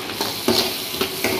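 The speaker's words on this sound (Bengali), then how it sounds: "তো এরকমভাবে নাড়াচাড়া করবো আস্তে আস্তে" Chili chicken with garlic being stirred in a pan: a soft sizzle under several distinct scraping strokes of a spoon against the metal, spaced roughly every half second.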